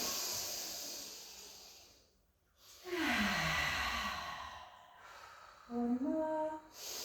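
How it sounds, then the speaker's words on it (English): Deep breathing during a Pilates balance and strength workout on an exercise ball: a long, loud airy breath, a brief hush, then a close exhale that turns into a voiced sigh, followed by another short breathy sigh near the end. "Take a lovely in breath."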